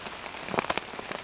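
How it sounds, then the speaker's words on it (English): Heavy rain pours in the Hoh Rainforest, heard from beneath a tarp, with dense patter and distinct close drops drumming on the surface in an irregular, steady rush. "We're just looking at the rain from under this tarp that we have set up right now, and it's just incredible."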